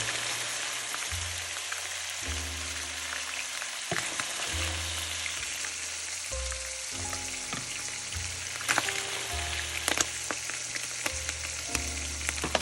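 Ground beef and onions fry hard in a pan with a loud, dense sizzle and bursts of spattering. A low droning hum runs underneath, and sharper pops cluster toward the end.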